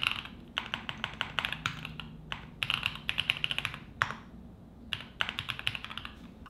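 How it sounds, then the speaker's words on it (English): Typing on a Lemon Key 75 custom hot-swappable mechanical keyboard, close crisp key clacks in quick bursts separated by short pauses, no voices. "especially when typing code on this Create Keeps Lemon Key 75 custom hot swappable mechanical keyboard"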